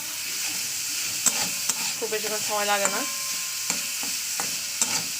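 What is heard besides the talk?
frying and stirring vegetables with peas in a pan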